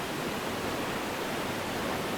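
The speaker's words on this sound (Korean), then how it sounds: "어디서 어떻게 보느냐에 따라 서로 다른 매력이 보인다는 나이아가라 폭포." Niagara Falls in winter, a steady, dense roar of falling water heard as an unbroken broadband rush, loud and constant throughout with no voices.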